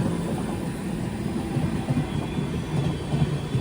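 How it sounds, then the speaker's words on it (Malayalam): The Darshan Express, running from Hazrat Nizamuddin to Miraj, rolls alongside on a monsoon run from Mumbai to Pune: a continuous low rumble with a faint rhythmic clatter of wheels, steady and fairly close throughout. "ഒരു ട്രെയിൻ ഓവർടേക്ക് ചെയ്യുകയാണ്."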